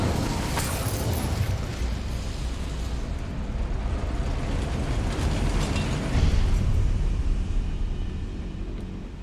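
An Incendio fire spell is cast in Hogwarts Legacy, letting out a loud, sustained roaring whoosh of flame that swells near the end and then fades slightly.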